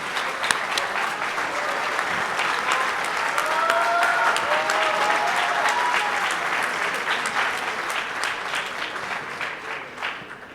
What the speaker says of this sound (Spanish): Un aplauso muy fuerte también para mi amigo Alejandro Villalobos